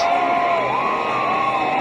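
Home rugby test crowd at an Australia versus Argentina match roars and cheers for a Wallabies try, a dense sustained wash of voices with whoops, steady and loud throughout.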